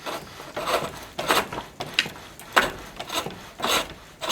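A wooden spoon being carved at an angle with a chisel-like cut, close rasping strokes that come in an uneven series of scrapes with short pauses, no speech.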